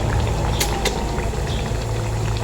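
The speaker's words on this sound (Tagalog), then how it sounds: "sobrang kulong-kulo talaga ng ating mantika" Cooking oil boils hard in a pan, a loud, dense, continuous bubbling roar with a couple of sharp spattering pops early on.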